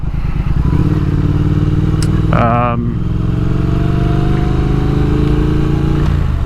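A motorcycle rolls along a gravel back road, its engine droning loud and steady close up, with a short tonal whine partway through and the sound cutting off near the end.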